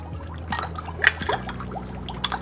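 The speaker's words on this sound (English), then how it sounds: "Dropping in our dry ice." Dry ice drops into a smoky mocktail, giving soft bubbling, fizzing and small liquid pops at close range, quiet and irregular.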